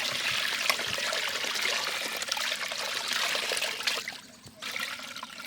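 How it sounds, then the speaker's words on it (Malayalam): Water poured into a pot of coconut rice, a close, steady splashing trickle that pauses briefly near the end and then resumes. "ഇത് വെള്ളം പാർന്ന് കൊടുക്കാം."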